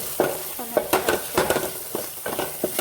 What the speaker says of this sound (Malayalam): നന്നായി ഇളക്കി കൊടുക്കാം കേട്ടോ.